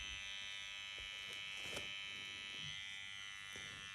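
Mast Fold Pro seven-stroke rotary tattoo machine running on fake skin, a steady high-pitched electric buzz throughout with a few faint clicks and taps, fairly quiet and alone without talk.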